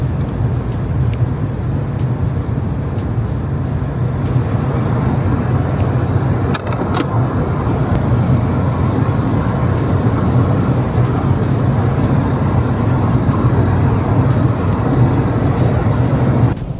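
Car driving at speed on the German Autobahn in a no-speed-limit zone, a steady loud interior roar of engine and road noise throughout with little change.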